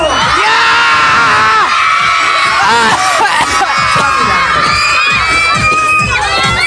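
Students at a school sports festival cheer, whoop and shout together as a loud, packed crowd, a continuous roar of young voices with rising yells throughout.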